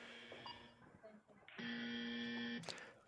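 Shot clock buzzer at a professional 10-ball pool championship match, a loud steady electronic tone lasting about a second, preceded by quieter beeps and followed by a brief sharp click.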